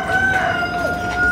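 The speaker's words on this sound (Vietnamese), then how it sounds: "có con gà tội nghiệp không?" A chicken inside a flooded, abandoned house gives a short, close, loud crowing call lasting about a second, with a tonal, strained quality over murky background noise.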